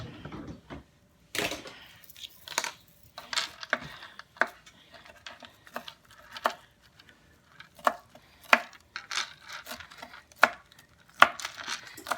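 A knife chops garlic and fresh parsley on a cutting board in a home kitchen, giving irregular bursts of crisp, close knocks with brief pauses between runs, no talking.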